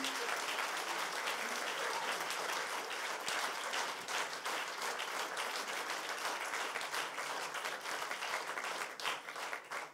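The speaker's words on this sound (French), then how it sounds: "On les applaudit une dernière fois, merci." Sustained applause fills the room at an engineering inventor award ceremony, a steady, even patter of many hands clapping at moderate loudness.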